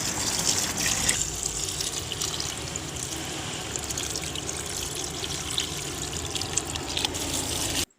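Water runs steadily from a tap, a constant close splashing stream that stops abruptly at the very end.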